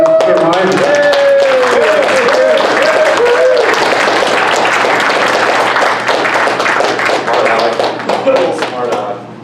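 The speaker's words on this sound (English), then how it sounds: "So give a good applause to Eyman" Crowd clapping for a speaker at a Tea Party gathering, a dense burst of hands that fades over several seconds, with a voice talking over the start and scattered claps near the end.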